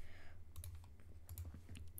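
Quick clicks of typing on a computer keyboard, a faint burst of irregular keystrokes over low background hum, with no voice.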